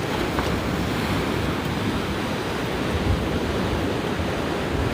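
Ocean waves at La Jolla Beach wash in as a steady, loud roar of surf with constant hiss and some wind, with no breaks or voices.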